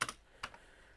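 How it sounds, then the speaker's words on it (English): Keys clack on a computer keyboard as Control and arrow keys are pressed, a few quick, faint clicks close by in a quiet room. "I'm cycling through those with Control and the arrow keys"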